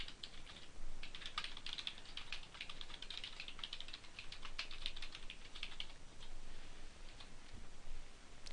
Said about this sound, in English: Hit Enter once again and then type in the name of your academic institution.